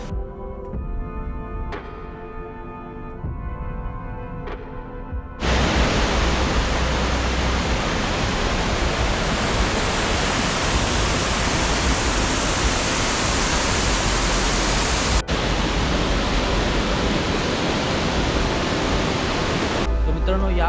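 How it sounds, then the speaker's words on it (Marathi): Banjhakri waterfall near Gangtok pours with a loud, broadband roar of falling water that starts abruptly after a few seconds of quieter ambience and a voice, then continues steady and close for the remainder. "मित्रांनो, या वॉटरफॉलचं नाव बनझाकरी वॉटरफॉल आहे."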